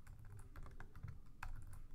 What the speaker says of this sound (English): Let's just go ahead and type in exactly